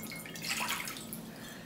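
Water is poured into a mixing bowl while homemade dog treats are being made, a steady splashing trickle at moderate level that runs for a couple of seconds.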